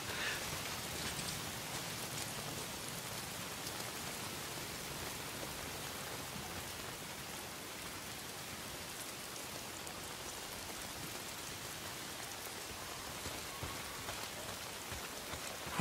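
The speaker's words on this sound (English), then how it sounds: "If it's not the freaks, it's the goddamn rain." Steady rain pours down in the video game Days Gone, a soft, even hiss of drops on surfaces that continues without a break, fairly quiet and with no voices.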